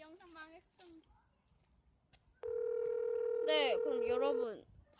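An outgoing phone call: a steady ringback tone holds for about two seconds, with voices speaking just before it and over it.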